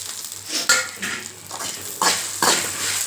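Turkey berries are stirred and tossed in a pan, with repeated scraping and sizzling bursts from a spatula against metal, close and fairly loud.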